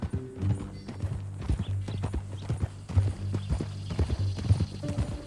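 A horse's hooves clip-clop in a steady walking rhythm on a Western open-world game trail, close and clear throughout.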